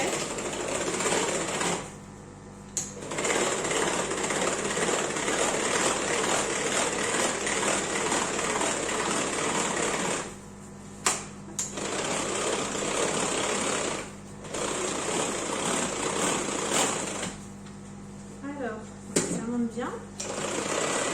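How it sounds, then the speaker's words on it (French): A Speedy Chef stand mixer whisks egg whites on speed 1 for waffle batter. Its steady motor whir runs in long stretches broken by a few short pauses, and a voice briefly speaks. "je vais commencer à battre mes blancs en neige. Donc en vitesse 1 sur mon Speedy Chef"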